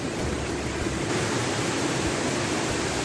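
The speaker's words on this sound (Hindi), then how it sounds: "झरने के एकदम फ्रंट में आ गया हूँ मैं" Waterfall heard from right in front, a loud dense continuous rush of falling water filling the scene, steady with no talking.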